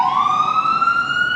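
A Toronto emergency vehicle's siren, not a fire truck, wails loud and steady as a single rising tone, close by and alone.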